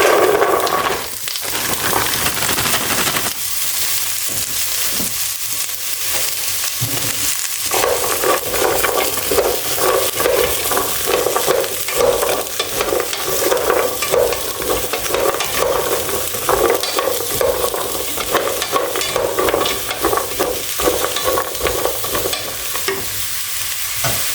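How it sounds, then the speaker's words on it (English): Stew mix with olive oil heating and sizzling in a pan while being stirred, a continuous close frying hiss with scraping stirring strokes, no talking. "Once that heats up, I'll be adding the stew mix to it."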